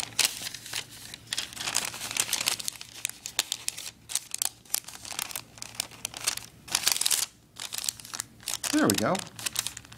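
Sheet of paper folded into a hexagon, crinkling and creasing close up in repeated rustling bursts, with a person speaking briefly over the handling.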